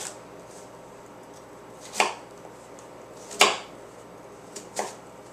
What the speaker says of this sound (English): So I'm going to do equal size slices.